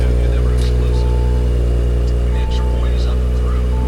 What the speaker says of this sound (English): Let's check the exhaust sound.